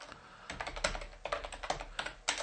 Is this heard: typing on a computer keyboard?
yes